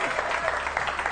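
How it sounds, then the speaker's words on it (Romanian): Applause from a small studio group on a morning TV show celebrating a football draw with Montenegro, a brief burst of steady clapping close by with faint voices mixed in. "aplauze!"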